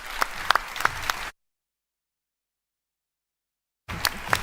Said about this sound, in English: Loud applause for Tarek Al-Wazir.